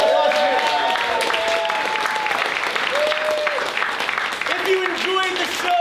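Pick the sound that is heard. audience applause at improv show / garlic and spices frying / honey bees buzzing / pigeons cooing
audience applause at improv show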